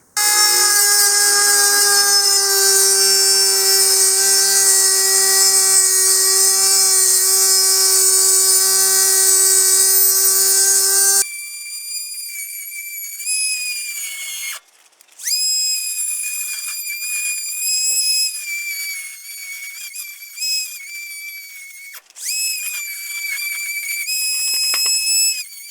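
A Hyper Tough 12-volt rotary tool cuts a steel pipe clamped to a table. It gives a loud, piercing high-pitched whine that drops in tone and level partway through as the cut loads it, with short dips and recoveries.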